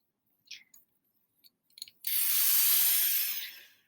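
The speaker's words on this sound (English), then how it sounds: "So what you're hearing is the vacuum releasing." A vacuum pump chamber has its seal released and air rushes back in with a loud, steady hiss lasting nearly two seconds. A few faint clicks come just before it.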